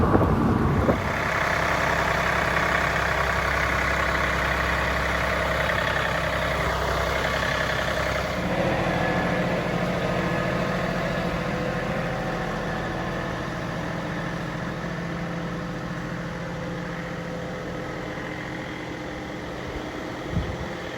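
A tractor engine runs steadily near an Appalachian Trail setting, a loud continuous diesel rumble with a slight shift in tone partway through, idling on with no talk.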